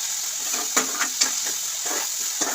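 Onions sizzle steadily in a pan, a constant bright hiss with several short scraping stirs and clacks spaced through it, close and fairly loud, with no talking.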